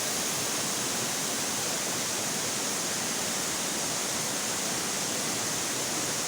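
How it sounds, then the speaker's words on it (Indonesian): Tumpak Sewu waterfall at Pronojiwo roars as a dense, steady broadband rush of falling water, loud and unbroken throughout with no voices. "Ini air terjun Pak Sewu guys."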